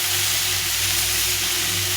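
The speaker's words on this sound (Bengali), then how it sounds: "এই ঝিঙে আলুটা অনেকটা ভাজা হয়ে গেছে মশলা দিয়ে কষিয়ে নিয়েছি" Ridge gourd and potato pieces sautéing with spices in a pan, giving a steady, close sizzle and frying hiss with no pauses and no voices.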